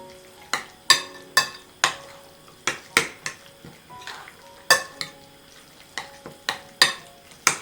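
A spoon stirring food in a pan, giving a series of sharp metallic scrapes and taps at an irregular rhythm, close by, with faint sizzling underneath.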